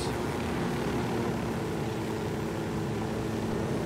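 A propeller aircraft engine in the video game Ghost Recon Wildlands, a steady droning hum with a constant low rumble, held loud and unbroken throughout with no talking.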